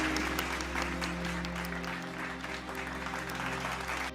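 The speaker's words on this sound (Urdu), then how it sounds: "ابھی راجا نے اتنا ہی کہا تھا کہ سب نے تالیاں بجانا شروع کر دی۔" A crowd in an animated story bursts into sustained applause, many hands clapping densely and evenly at moderate volume, with a low steady hum underneath and no voices.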